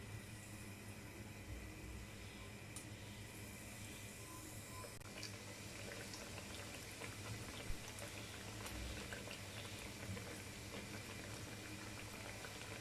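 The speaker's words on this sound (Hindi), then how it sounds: "अब हम इसे फ्राई करते हैं।" Chicken fingers fry in hot oil in a pan over a low flame, giving a steady, even sizzle and hiss that runs throughout at low volume, with no talking.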